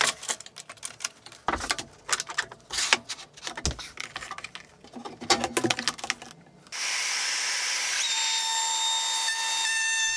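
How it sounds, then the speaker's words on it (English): Wood is handled and clattered with sharp knocks and scrapes, then a router table starts up with a loud steady high whine as it cuts a rebate in wood for an aluminium channel. "I'm now setting up the router table to make the rebate for the aluminium channel."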